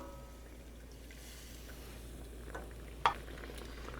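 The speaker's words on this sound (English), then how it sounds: "I'm going to add in a 1/2 cup of white wine." A faint, steady sizzle from a pan of lemon chicken as white wine goes in, with a single brief clatter near the end.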